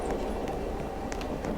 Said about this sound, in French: le bruit du métro qui est toujours aussi étrange